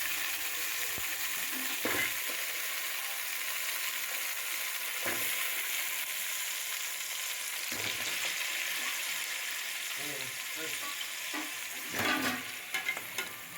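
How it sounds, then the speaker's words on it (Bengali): Washed raw potatoes frying lightly in hot oil for chicken biryani, a dense continuous sizzle with periodic stirring scrapes and clanks, close and steady throughout, no voices. "তো আলুগুলো আমি একটু হালকা ভেজে নেব, খুব বেশি যে ভাজবো সেটা কিন্তু না।"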